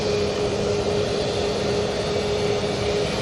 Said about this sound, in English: We do have a TUI Dreamliner that's nearly here